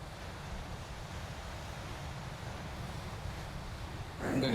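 Sea waves washing steadily onto a beach, a continuous broad roar with faint wind and a louder surge at the very end.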